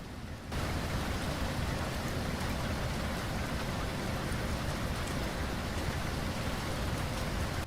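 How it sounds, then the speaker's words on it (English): Heavy rain pours down in a dense, constant hiss with no letup, heard alone throughout. "it's raining heavily"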